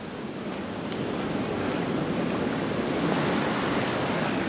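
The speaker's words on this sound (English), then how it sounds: "The weather, big pumping swell out the back." Big pumping ocean swell breaking offshore, a broad steady roar of surf mixed with wind buffeting, continuous and fairly distant with no voices.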